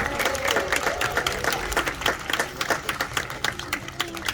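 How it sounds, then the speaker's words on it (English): An audience at a safari park sea lion show claps and cheers, a dense burst of applause filling the whole stretch, loud and close. "everyone give Bounty one last cheer to say well done"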